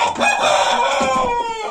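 Young roosters crowing, loud and close, a strained, wavering cock-a-doodle-doo lasting under two seconds, with no voices.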